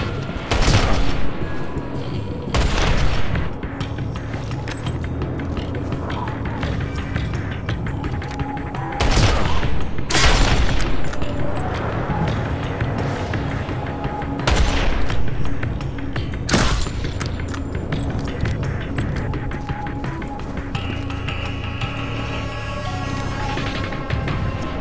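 Sustained firefight in the mobile game Modern Combat by Gameloft: steady automatic gunfire throughout, punctuated by several loud sharp blasts and booms spaced across the stretch, dense and close.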